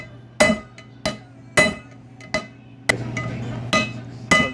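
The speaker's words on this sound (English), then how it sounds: "we're hitting the inner part of the bearing with a chisel. We're hammering it down." A hammer strikes a chisel against the inner race of a bearing on a Jeep Wrangler Dana 44 axle, seven sharp metallic clanks with ringing tails at an uneven pace, close and loud, with no talk.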